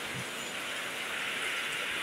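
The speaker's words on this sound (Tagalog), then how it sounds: "Nako, lalo lumakas yung ulan tuloy" Heavy rain pours steadily in flooded southside Taguig, Manila, a dense continuous hiss with no break, fairly near and unaccompanied by voices.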